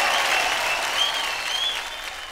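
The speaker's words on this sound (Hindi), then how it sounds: "एक बार जोरदार तालियां बजाओ एवरीबॉडी" Sustained applause from a TV dance show audience, dense and even, with a few whistles riding over the clapping throughout.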